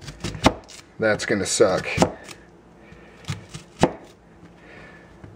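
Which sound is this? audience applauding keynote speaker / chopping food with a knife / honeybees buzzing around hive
chopping food with a knife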